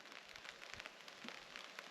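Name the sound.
light rain pattering on a tarp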